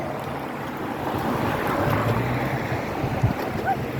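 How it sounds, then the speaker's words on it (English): Riding on a scooter in a bike lane brings loud, steady wind rush and road noise, with a faint thump near the end and no clear talk. "I'm riding bitch on a scooter."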